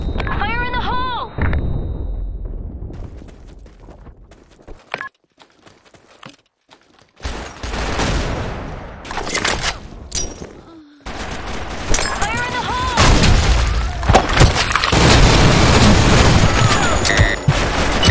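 Grenade explosions and gunfire in the shooter game Blackshot, loud booms and rapid bursts of shots coming in waves with short lulls, while voices shout over the action.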